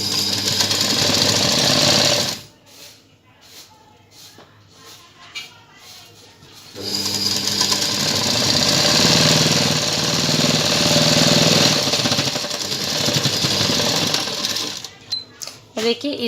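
A sewing machine stitching a kurti runs in loud, steady whirring bursts, pausing for a few seconds while someone speaks, then resuming for a long continuous run of stitching.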